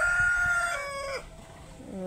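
Several chickens cluck and a rooster crows nearby, overlapping calls in a busy farmyard chorus.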